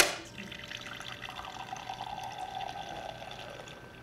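Water pouring and trickling from a Keurig coffee maker during a plain-water rinse cycle, a steady faint stream with light splashing that fades out toward the end.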